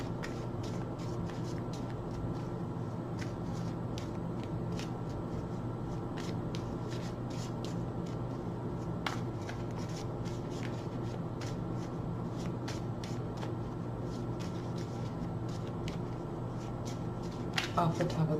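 Tarot deck being shuffled and cut, a soft papery riffle of cards that carries on steadily over a constant low background hum, with a few louder card snaps near the end.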